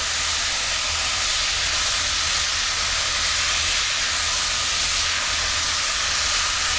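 Loud, continuous hissing and steaming as sauce for Mexican rice cooks down in a pan, a steady broadband sizzle with no talking over it.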